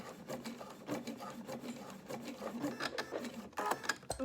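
Sewing machine stitching the placket seam of a polo shirt, a steady rapid mechanical chatter with a brief stop and backstitch near the end, quiet and close with no talking.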